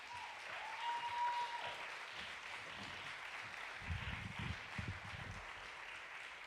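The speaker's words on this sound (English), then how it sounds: "give a round of applause and welcome Seven to the stage" An audience applauds to welcome a performer onto the stage, a steady wash of clapping throughout with a brief whistle-like tone near the start and some low rumbling crowd noise toward the end.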